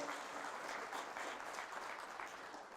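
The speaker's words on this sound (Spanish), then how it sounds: "Fuertes aplausos al Rey de Reyes y al Señor de Señores, a Cristo Jesús nuestro Señor" A church congregation applauds in a steady, even wash of clapping that carries on throughout at a moderate distance, with no voices on top.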